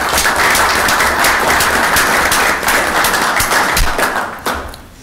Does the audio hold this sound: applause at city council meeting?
yes